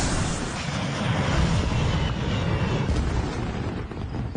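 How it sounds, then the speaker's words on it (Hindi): Firecrackers bursting in a Shinchan animated movie, heard as a loud, continuous roar of dense crackling blasts and rumble that fills the whole stretch without a break. "पटाखे।"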